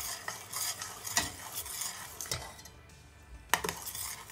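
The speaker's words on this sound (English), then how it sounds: "I'm gonna give it a stir." Homemade caramel sauce with vanilla being stirred in a pot, giving soft scraping swishes with a few sharper utensil clicks against the pan, a faint sizzle beneath, close and fairly quiet with no talking.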